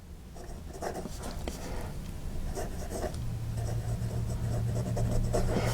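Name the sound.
writing with Wing Sung medium soft nib fountain pen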